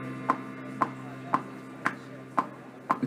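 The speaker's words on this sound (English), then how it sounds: "It's starting to get distorted." A looped studio beat being pushed into heavy distortion during production of Lady Gaga's "Paparazzi", with sharp, evenly spaced hits about every half second over a steady droning tonal bed.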